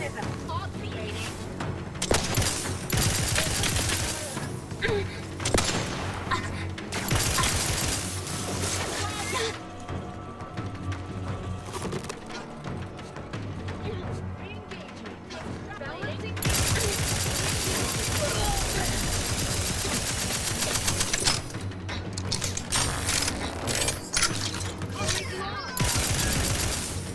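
Gunfire in the video game The Outer Worlds 2, rapid crashing bursts and booms layered with game music and effects, loud and dense with brief quieter gaps.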